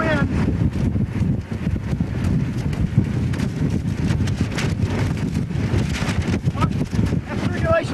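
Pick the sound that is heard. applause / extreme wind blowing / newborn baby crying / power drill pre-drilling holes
extreme wind blowing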